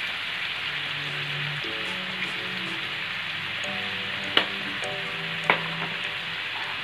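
Turmeric and chili fry in a pan for masala dal palak, giving a steady close sizzle and crackle throughout. Two sharp clinks of a utensil cut through, and music plays softly underneath.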